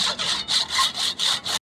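A hand saw cuts through the fork steerer tube on a Nukeproof Scout hardtail mountain bike in six quick, rasping strokes, close and steady, then stops sharply.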